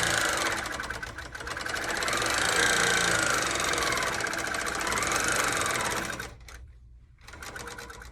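Long arm quilting sewing machine stitching, a close rapid mechanical chatter with steady rhythm for about six seconds before stopping, followed by quieter handling noise.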